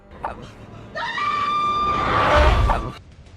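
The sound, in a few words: person screaming in the horror film Mama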